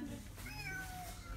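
A cat meows once in a pet shop inside an Ankara shopping mall, a faint drawn-out call over busy indoor background noise.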